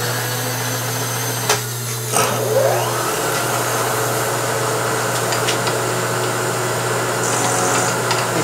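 An end mill squares up the end of a metal part clamped in a vise with parallels under it. It gives a steady, fairly loud machining whine with a low motor hum and a few brief scrapes, and no one speaks.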